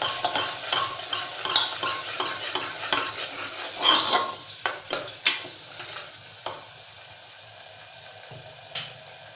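Onion-coconut paste with a piece of cinnamon and two bay leaves frying in hot oil, sizzling steadily while a spoon stirs and scrapes the pan in irregular close knocks, with one sharp clack near the end.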